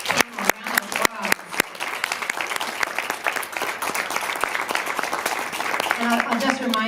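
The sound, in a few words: audience applause for the panel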